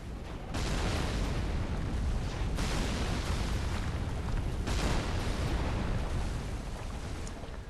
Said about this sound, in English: You want to get the ballista to destroy this rebel right here.